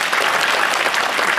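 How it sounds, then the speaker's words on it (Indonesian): Steady, dense applause from an audience fills the room at a party office opening ceremony in North Maluku, continuous clapping throughout with no talk over it. "Kita berikan tepuk tangan dulu."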